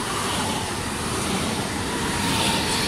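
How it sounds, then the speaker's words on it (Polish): A PKP Regio train, units ED78026 and ED78028, pulls into a station, a loud, steady, close rumble filling the whole stretch without pause. "tutaj wjeżdża jakiś skład Regio"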